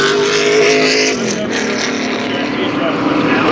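NASCAR Cup cars roar along pit road at Talladega during the 2018 fall race, their loud engines droning and shifting in pitch under a race commentator's voice.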